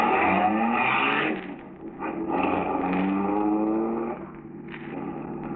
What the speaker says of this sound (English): Then, Marola in the second car, the stolen car, starts.